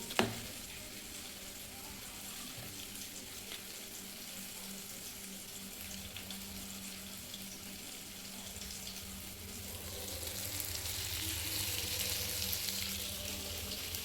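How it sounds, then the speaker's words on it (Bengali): Chicken marinated with turmeric sizzles in hot oil, a steady hissing fry that starts with a sharp splash as it goes in and grows slightly louder toward the end, close and without talking. "তো এটাকেই আমি এখন ওই তেলের মধ্যে দিয়ে ভাজবো।"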